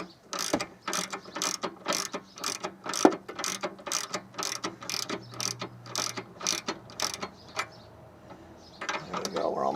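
A hand ratchet wrench tightens the nut on a car's sway bar link with a quick, regular run of close clicking strokes that pauses briefly near the end.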